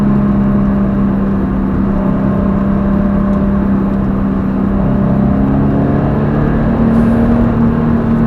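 Toyota GT86 engine pulling under full throttle from inside the car, a loud, steady droning note that slowly rises in pitch over several seconds, close and continuous with no talking.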